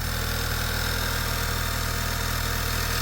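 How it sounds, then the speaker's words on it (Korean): A car engine idles steadily with a smooth, even rhythmic thrum, close and constant, with no voices. "엔진 소리가 매우 안정적입니다."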